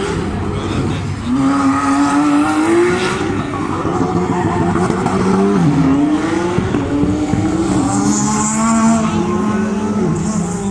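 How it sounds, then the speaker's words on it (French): A Skoda Fabia Super 2000 rally car at the Rallye de Wallonie 2021 roars past with a loud, rising and falling engine note, shifting gears and revving hard, with a commentator's voice faintly beneath. "Et la voiture numéro 10, hein, vous l'évoquiez tout à l'heure, c'est la Skoda Fabia Super 2000 de Sébastien Louis."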